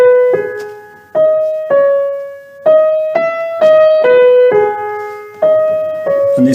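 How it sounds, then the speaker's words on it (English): A Lithuanian folk melody from a collection of folk songs, the tune that became the opening bassoon solo of the Rite of Spring, plays as a single line of sustained, gently decaying notes moving stepwise, clear and alone with no voices. "The original folk song in the collection sounds like this."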